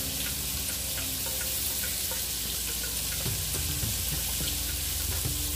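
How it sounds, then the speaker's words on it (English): Catfish frying in hot oil on a stovetop, a steady close sizzle and crackle running throughout with small pops and faint clinks, and no talking. "we're gonna let that fry up"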